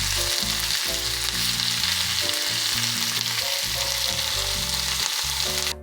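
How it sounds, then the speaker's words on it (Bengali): Potatoes frying in a pan until half cooked for a potato nest pancake, a steady hiss under a melody of background music playing throughout. "আলুগুলোকে অর্ধেক সিদ্ধ হওয়া পর্যন্ত ভাজতে থাকুন"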